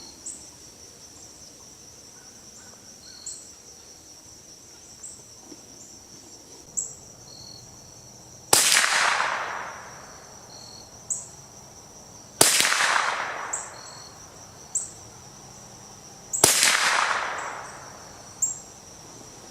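Three loud Marlin Model 60 rifle shots crack out at intervals of about four seconds, each with a trailing outdoor echo, over a steady background of insect chirping and a few faint distant pops.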